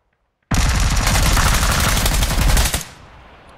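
Sustained automatic gunfire from a video game blasts loud and close as a rapid continuous burst for about two seconds, then cuts off into a faint tail.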